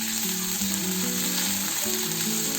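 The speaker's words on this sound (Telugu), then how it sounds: "కొద్దిగా ఫ్రై చేసుకొని" Ginger garlic paste fries in a pan, giving a steady close sizzle throughout a short stretch, with a tonal background hum and no speech.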